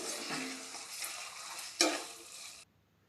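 Cashews, almonds and grated coconut stirred into bottle gourd halwa in a pan, a soft continuous scraping and sizzling with one louder clack of the spoon near the end before it stops.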